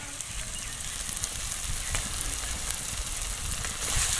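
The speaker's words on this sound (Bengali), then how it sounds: "তো দেখুন মশলাটা কত সুন্দর কষানো হয়েছে।" Spicy masala paste for a magur fish and potato curry sizzles and crackles steadily in the pan, a close, dense frying hiss that holds all the way through, with no talk.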